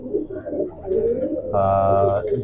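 Soft, throaty Imamdeen pigeon coos roll along up close, with a brief louder tonal call in the middle and light background noise.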